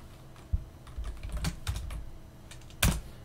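Fingers type on a computer keyboard in quick, irregular keystrokes, with a couple of louder key taps, close and clear in a quiet room.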